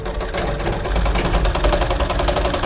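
An electric sewing machine stitches a blouse sleeve, its rapid, even mechanical whirring and needle clatter running continuously and close up with no talk.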